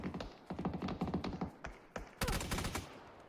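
MG3 machine gun fire in the video game PUBG during an esports league match, several loud rapid bursts separated by short pauses, with a final denser volley.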